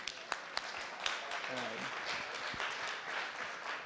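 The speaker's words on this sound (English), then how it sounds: "So please give a huge round of applause." A round of applause from the audience at a TouchDesigner event livestream, heard faintly and at a distance as scattered claps that swell into a soft, continuous patter, with a voice briefly rising above it.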